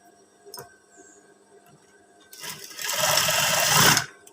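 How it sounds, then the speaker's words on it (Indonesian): A sewing machine stitches a collar for a school uniform, giving a loud, close, steady mechanical whir for over a second after a few quiet taps and pauses. "Nah, di sini langsung kita jahit"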